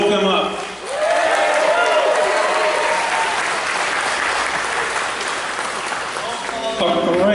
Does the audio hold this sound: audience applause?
yes